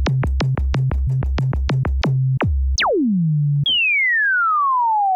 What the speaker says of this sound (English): you can get all sorts of sticky sine waves.